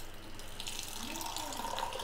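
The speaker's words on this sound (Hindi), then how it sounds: "अभी हम इसको कप में डालेंगे, चाय से इसको डालेंगे।" Tea being poured from a pan into a cup, a continuous close liquid trickle and splash running steadily for a couple of seconds.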